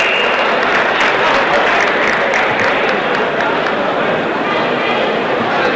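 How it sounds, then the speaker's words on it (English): A boxing-night crowd at a fitness-club event applauds two boxers after a technical draw: dense, loud, steady clapping sustained throughout, mixed with crowd noise. "Have a round of applause there to Jason Tramsek and Blair Ornsby"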